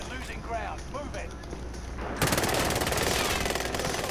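Video game gunfire bursts in as rapid, loud, sustained automatic fire, with voices talking in the first half and the shooting taking over partway through.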